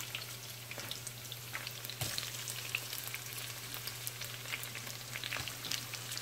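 Onion sizzles steadily in rendered pork fat in a pan, a dense crackle with fine pops and a low hum beneath, heard close with no talk.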